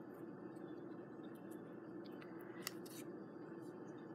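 Paper scissors snip through stamped cardstock by hand in a craft session, a steady close rustle of cutting with a few brief sharper snips, no talking.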